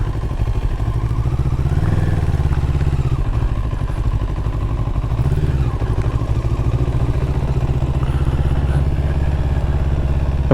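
A 2024 Moto Morini Calibro Bagger motorcycle is ridden, its engine a loud, steady, close drone that holds without a break, with faint clatter now and then.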